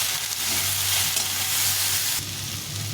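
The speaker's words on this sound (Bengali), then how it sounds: "একটু ভালো করে ভেজে নেব।" Vegetables, including flat beans, eggplant and radish, frying with salt and turmeric in a pan, a loud continuous sizzle and crackle close by, with stirring scrapes and a brief dip in intensity partway through.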